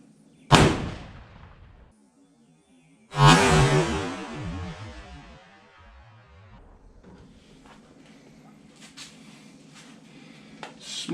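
A Mountain Rifle chambered in 7mm Magnum fires two sharp, loud cracks a few seconds apart, the second followed by a long rolling echo that fades into quiet outdoor ambience.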